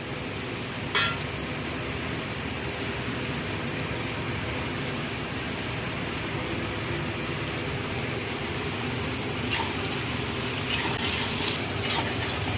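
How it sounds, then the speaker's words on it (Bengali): Tomatoes and onions sizzle steadily in a pan for chicken ghugni, a continuous close frying hiss with occasional light scrapes of a stirring spoon. "এবার টমেটোটা দিয়ে কিছুক্ষণ নাড়াচাড়া করে মশলাগুলো দেবো"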